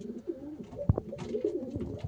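Pigeons kept for sale, including homing pigeons, coo softly nearby in a few low, throaty phrases, with one sharper thump or flutter partway through.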